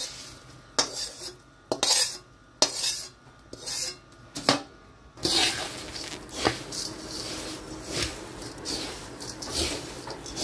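Puffed rice (kurmure) being stirred into a spiced tempering in a pan for the Maharashtrian bhadang snack, giving a series of close, dry scraping and rustling strokes with spoon clinks against the metal, with no talk.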